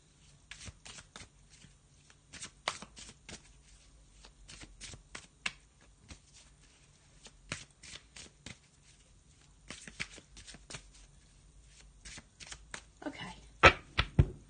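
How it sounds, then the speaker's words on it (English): A deck of black and white tarot cards is shuffled by hand, giving a run of quick papery riffles and taps in irregular bursts, close and fairly quiet, with a denser flurry near the end. "I'm just going to have a little shuffle of that."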